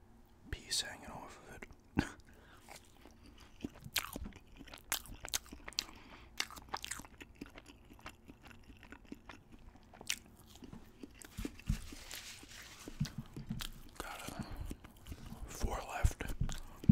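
Chicken nuggets being eaten close to the microphone, with soft irregular bites, crunches and wet chewing scattered through quiet whispering.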